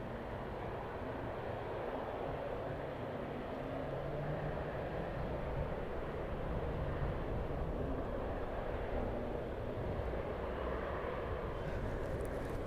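Engines of a West Atlantic Boeing 737 at East Midlands Airport roar in a steady, broad rumbling wash before taxiing, heard from a distance without any talk.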